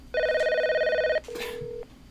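A telephone rings with a steady warbling electronic tone for about a second, then a lower single-pitched ringback tone follows after a brief burst of noise, close and clear with no talking.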